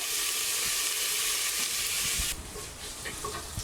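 Thinly sliced onions fry in a hot pan with salt, giving a loud, steady broadband sizzle that drops back to a softer crackle partway through, with occasional stirring scrapes.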